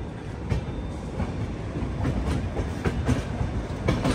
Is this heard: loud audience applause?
no